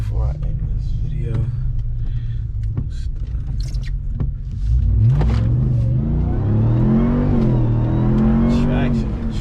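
Ram TRX truck launching from a stop in heavy rain, the engine rumbling low then rising sharply into a loud rev and sustained acceleration with pitch sweeping upward, heard from inside the cab.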